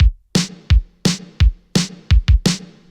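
A programmed electronic beat of deep kick drums alternating with sharp snare hits, eight punchy strikes in a steady pop rhythm, loud and clean with no voices.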